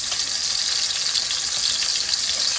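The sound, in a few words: hamburger patties browning in a frying pan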